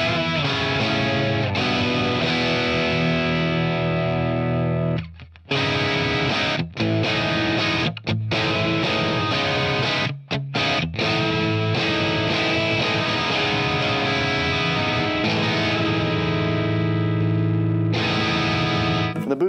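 Electric guitar played through an EWS Brute Drive overdrive pedal, thick and distorted, with sustained chords and riffs that fill the whole stretch and break off briefly for short pauses, loud and close with no talking.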